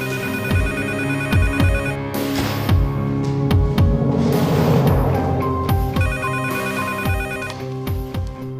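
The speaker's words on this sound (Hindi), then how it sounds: "शाहीन, जल्दी उठाओ फोन" A telephone ringtone plays loudly and continuously, a repeating electronic melody with clicking beats, close and without talk.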